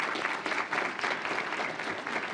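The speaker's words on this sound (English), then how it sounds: "a round of applause for everybody" Audience at a healthcare symposium general session gives a round of applause, a fairly quiet, even patter of many hands clapping with no voices over it.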